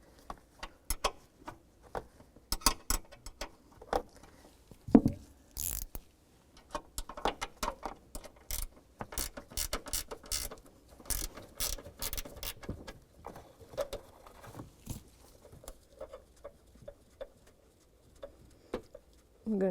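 A 12mm wrench or socket clicks and ratchets in quick bursts while a rear strut bolt is removed from a 2001-2007 Volvo V70, sharp close metallic ticks and knocks with brief pauses and a few mechanical clunks.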